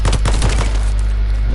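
Gunfire in The First Descendant comes as a rapid burst of loud, close shots over roughly half a second, then drops to a low steady hum.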